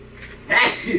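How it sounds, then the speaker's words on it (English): One sharp sneeze from a man, close and loud, with a brief intake before it and quiet room noise around. "sneezing"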